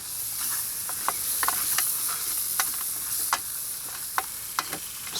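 Butter and flour sizzle in a metal mess kit, a steady hiss broken by scattered sharp clicks and scrapes of stirring, fairly close with no talking.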